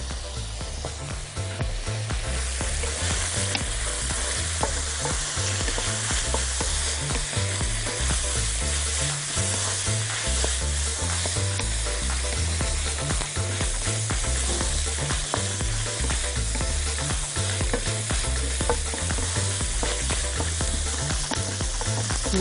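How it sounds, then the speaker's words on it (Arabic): Chicken stir-frying in a pan for Chinese chicken and vegetable rice, with a steady, loud sizzle and repeated rhythmic scraping and clattering of a utensil against the pan throughout, no talk. "بنكمل تشويح عادي"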